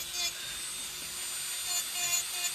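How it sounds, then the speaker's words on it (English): An electric nail file drill buffs down fingernails with the bit held flat, giving a steady high-pitched whir and faint rasp that runs continuously through the moment with no talking. "So while I'm doing the e-filing, you can see I'm keeping my e-file flat, level at all times."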